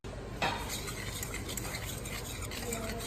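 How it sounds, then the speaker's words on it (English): A spoon stirs cake mixture with a tablespoon of water in a bowl, a close, steady scraping and clinking that runs continuously. "we stir it until it's the consistency that we want."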